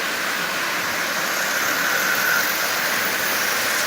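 A Marx 999 toy train locomotive with an eight-wheel tender running at about 60% power, giving a steady, smooth motor whir and hum that holds even and fairly loud throughout with no talk.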